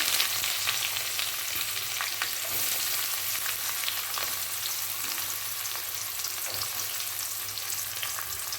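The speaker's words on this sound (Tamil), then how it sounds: "வெங்காயம் நல்லா வதங்கட்டும்" Onions sautéing in hot oil with cinnamon, cloves, cardamom and fennel for a kurma curry give off a steady, close, dense sizzle with occasional stirring scrapes and no talk.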